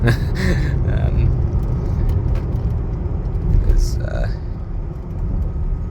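A 2013 BMW X6 M50d pulls away under hard acceleration, its engine rumbling loudly and steadily from inside the cabin for the whole stretch, with a person talking over it.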